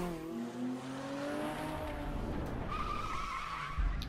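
Car tires skid and squeal in the racing video game The Crew during a getaway, a sustained screech with engine roar that rises and shifts pitch over several seconds, loud and continuous with no talk.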